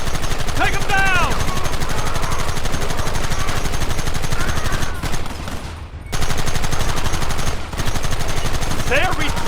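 Dense, continuous gunfire from rapid rifle and machine-gun shots in the video game Red Dead Redemption on PS4, loud and relentless with a brief lull midway, while voices shout over the shooting.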